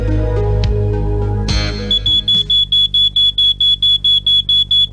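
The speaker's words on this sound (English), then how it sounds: "It's a smoke alarm." A smoke alarm beeps in a steady, rapid series of loud, high-pitched pulses, following a burst of louder mixed sound at the start.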